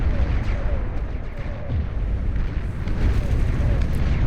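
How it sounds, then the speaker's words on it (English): Heavy plasma cannons fire in the real-time strategy game Beyond All Reason during an 8v8 deathmatch, a dense, loud rumble of overlapping booms and blasts rolling continuously, with no distinct pauses. "Blasting away with those heavy plasma cannons."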